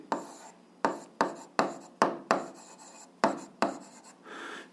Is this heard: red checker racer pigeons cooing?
no